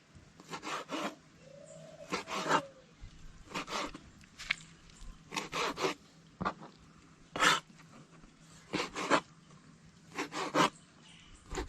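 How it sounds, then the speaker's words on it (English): A knife cuts a lobster into small pieces in a kitchen: repeated short rasping, crunching strokes in irregular bursts, close and fairly quiet, with no talking. "So I'm going to cut up the lobster into some small pieces."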